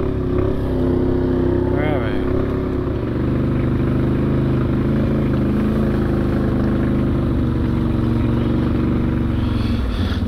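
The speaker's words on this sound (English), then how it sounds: "There's a bunch more bikes coming there." A group of ATVs rides past on a route across Newfoundland, with a loud, continuous engine drone rising and falling as the machines pass close by, and a voice talking over it.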